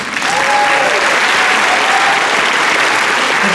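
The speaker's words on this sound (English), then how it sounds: "I think you owe yourself an applause for this." Steady, loud applause from a concert audience at a reunion show, a continuous wash of clapping with a faint tonal voice or cheer near the start.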